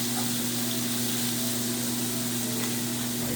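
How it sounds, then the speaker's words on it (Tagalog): Shrimp and bitter gourd (ampalaya) sauté in a hot pan, producing a loud, continuous close-up sizzle with a dense frying crackle and a steady hum underneath, with no voices. "So, mag-start na tayo manggisa sa ating shrimp lagat ampalaya."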